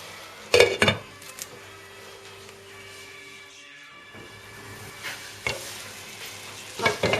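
Rice pilaf is stirred in a pot with a utensil, giving a few sharp scrapes and clinks against the metal over a low simmer, with a quiet gap in the middle.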